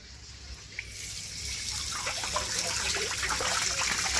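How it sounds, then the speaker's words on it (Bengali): Running water splashes and trickles over shelled prawns being washed, a steady rushing flow with small spatters building in the second half, no voices present. "চিংড়ি মাছ থেকে আমি খোলাগুলো ছাড়িয়ে নিয়েছি এইবারে আমি ভালো করে ধুয়ে নিচ্ছি"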